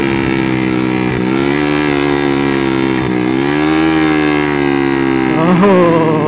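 A modified 2014 Yamaha Vixion Lightning motorcycle on a test ride: a loud, close, continuous engine drone with rising and falling harmonics as the throttle varies, plus a brief surge near the end.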